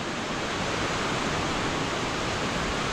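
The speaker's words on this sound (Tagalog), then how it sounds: "Wow, waterfalls." Glencar waterfall in County Leitrim, Ireland, roars in a steady, dense rush of falling water, loud and unbroken throughout with no voices over it.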